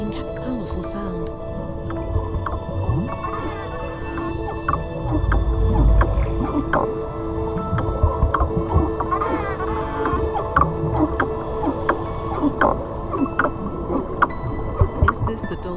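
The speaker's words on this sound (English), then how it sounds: "All these sounds given out by the dolphins and other cetaceans remain a huge mystery." Dolphins gathering underwater give out a dense mix of harmonic whistles and rapid clicks, loud and continuous, layered over a low watery rumble.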